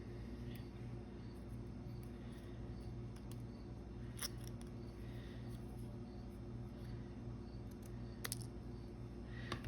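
Scissors snipping open a small paper tag for a crafting project, a couple of faint, brief cuts near the microphone over a steady low background hum.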